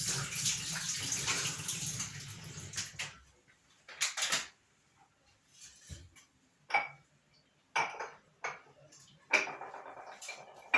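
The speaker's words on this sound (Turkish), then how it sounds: "Ellerimizi yıkayalım." Hands washed under a running kitchen tap, a steady gush of water for a few seconds, then intermittent bursts and splashes with light clinks, close by, no talking.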